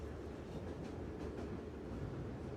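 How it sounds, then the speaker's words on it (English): Train rolling along the rails heard from inside a carriage, a steady low rumble with a soft rhythmic clatter, moderately loud and continuous with no talking. "you're on the train"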